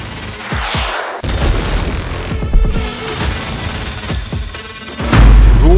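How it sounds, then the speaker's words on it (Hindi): Heavy booming blasts from Russian missile strikes on Ukraine, several deep explosive thuds with rumbling, crashing aftermath, loud and fairly close, one large boom near the end. "34 मिसाइल हमलों से यूक्रेन धुआं-धुआं।"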